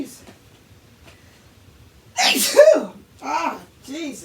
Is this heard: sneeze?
yes